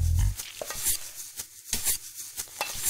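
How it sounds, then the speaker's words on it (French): Gentle stirring and folding of whipped egg whites into a yolk batter with a spatula, soft intermittent scraping and swishing strokes in a bowl, close and quiet, after a brief louder bump at the start. "avec ta spatule, tu vas mélanger doucement, sans battre, en soulevant délicatement la pâte pour bien l'aérer"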